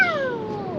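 A voice imitating a coyote gives one drawn-out, falling howl that starts high and slides downward. It sounds close and carries on for nearly a second, with no talking over it.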